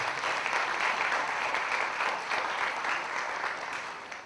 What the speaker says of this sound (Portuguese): Os irmãos me elogiaram, bateram palmas